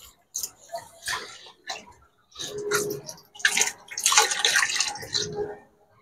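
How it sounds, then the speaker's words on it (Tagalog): Water is poured in splashing bursts into an aquarium during a refill. The pouring starts and stops irregularly, close by, in a quiet setting. "Dito tayo nag-refill ng tubig"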